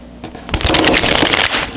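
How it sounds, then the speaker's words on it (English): Thick tarot cards are shuffled in one loud, close burst of riffling and flapping, with a short softer lead-in before it. "So I will be doing a couple of shuffles like this."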